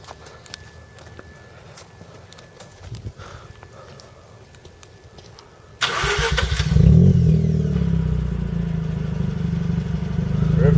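Mazda RX-8 rotary engine fires up after quiet ambient noise and settles into a loud, throaty idle through its exhaust, heard close with a brief swell in revs just after starting.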